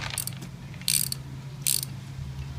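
A ratchet wrench cranking the bolts on a belt-drive pressure washer pump, several quick clicking pawl bursts in short strokes over a low background hum, close and crisp with no talk.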